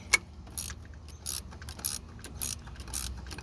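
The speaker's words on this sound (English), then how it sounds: "ratchet wrench really helps" A ratchet wrench tightens a power steering part on an F-body car, giving short, quiet bursts of mechanical ratchet clicking about every half second over a low background hum.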